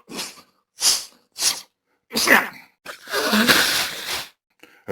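Someone blows their nose loudly onto granite slabs in an amphitheatre, a series of short forceful nasal bursts ending in one long, wet, drawn-out blow.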